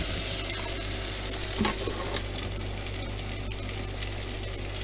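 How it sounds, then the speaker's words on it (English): Onion lands in a sauté pan with hot garlic on an induction cooktop aboard a boat, giving a loud, continuous sizzle with a brief scrape of stirring and a steady low hum underneath. "now I throw in the onion immediately afterwards and then stir it up"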